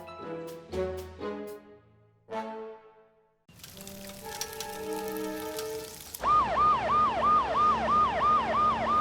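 A cartoon fire truck siren wails in a fast, regular up-and-down cycle, loud and close, after a stretch of bright plucked musical notes and a sustained chord with no speech.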